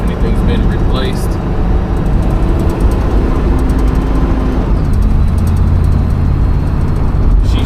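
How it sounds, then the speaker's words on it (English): A 1963 Pontiac Bonneville with a Hydramatic automatic transmission drives along, its steady engine and road drone rising and shifting pitch a couple of times, with a voice talking over it. "She's shifting smoothly"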